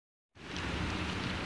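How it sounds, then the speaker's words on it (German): Light rain falls outdoors as a steady, even hiss that starts abruptly and continues unbroken at moderate loudness. "es regnet gerade ein bisschen"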